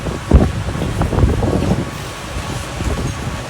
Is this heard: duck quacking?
no